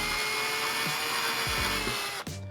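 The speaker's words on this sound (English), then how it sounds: "I'm going to drill a pilot hole." A drill boring a pilot hole into a wooden toolbox, a steady high-pitched whine running close and continuous, then cutting off abruptly near the end with a short thump.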